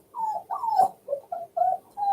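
A dog whimpers close by in a series of short, high, plaintive whines, about six cries in quick succession with brief gaps between them.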